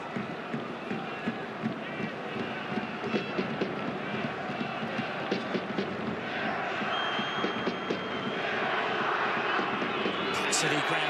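A capacity crowd at Stade de France during a France versus Spain World Cup qualifier, with travelling Spanish fans chanting under a broad wash of whistles, distant and continuous, while a commentator talks over it.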